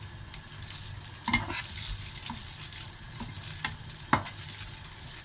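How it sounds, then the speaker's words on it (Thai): Noodles hitting hot oil in a pan for Thai rad na with chicken, giving a steady sizzle and frying hiss with a few stirring scrapes and clanks, close and alone. "ใส่น้ำมันนิดเดิม เส้นลงไปเลย ลงเส้นไปเลยจ้ะ ใส่เส้นลงไปเลย"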